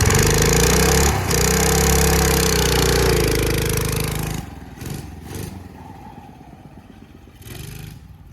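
An old Briggs & Stratton 3.5 horsepower engine with a replaced carburetor runs loud and steady close by, then cuts off abruptly, leaving faint scattered knocks and handling noises.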